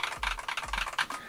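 Keys clack on an XVX M87 Pro three-mode TKL mechanical keyboard with a steel plate and internal dampening, giving a handful of close, crisp, slightly hollow keystrokes in quick succession.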